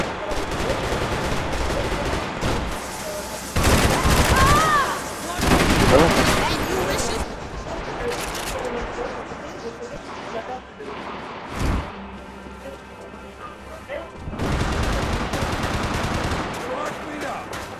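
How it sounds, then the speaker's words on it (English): Gunfire in Max Payne 3 multiplayer on PS3: rapid machine-gun bursts and loud shots in repeated volleys, with people talking over the din. "They stopped caring who they were shooting at."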